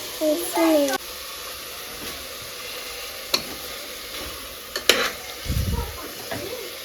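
Green chilies sizzle in hot oil in a home kitchen for chicken biryani, a soft steady frying hiss broken by a few sharp clinks and stirring scrapes, with brief talk nearby.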